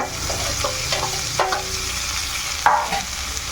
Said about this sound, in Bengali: এটা একটু নাড়িয়ে চাড়িয়ে এখন এর মধ্যে দিয়ে দেব পেঁয়াজ কুচি আর কাঁচা লঙ্কা কুচি।